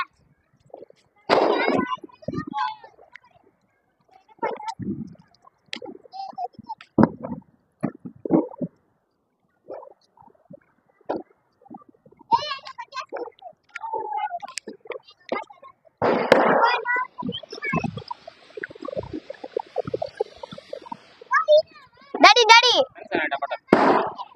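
Diwali firecrackers, including a ground spinner, bursting in repeated sharp cracks and short loud pops, some close by, with people talking and calling out in between.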